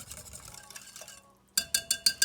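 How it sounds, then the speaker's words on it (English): Peach cold process soap batter is stirred in a container, first with a soft scraping swirl, then after a brief pause a run of five sharp, evenly spaced clinks and taps from the utensil. "A little stir."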